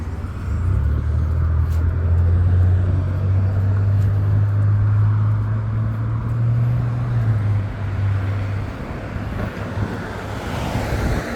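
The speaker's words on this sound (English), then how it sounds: "I tried to cross this road, but obviously never works because the cars, they keep coming." Continuous traffic rush of cars passing on a road, a loud steady low roar with a sustained engine drone and heavy wind buffeting the microphone throughout.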